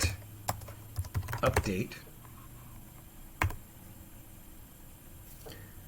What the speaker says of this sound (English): So we're going to type sudo apt-get